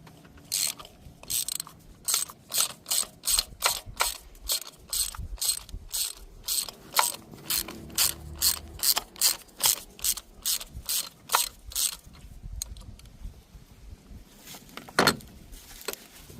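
A ratchet on a long extension loosens spark plugs on a 2018 Hyundai Elantra, giving a long run of evenly spaced rapid clicking bursts, close and clear, then a few scattered clanks at the end.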